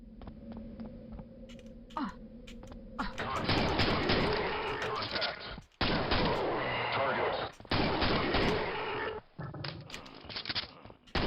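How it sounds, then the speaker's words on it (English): Dense, sustained bursts of gunfire in the video game Quake, played with a brutalist-themed mod, in loud stretches broken by brief pauses, over a low background hum. "Maybe I should use a gun?"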